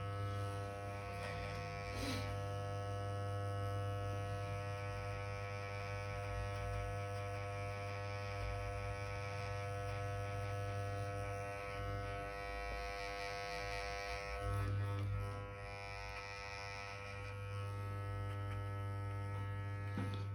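Electric hair clippers at the zero-and-a-half and zero settings buzz steadily beside the temple during a beginner-style Panga haircut, a close, continuous motor hum that shifts pitch slightly as the blade moves through hair, with no talking.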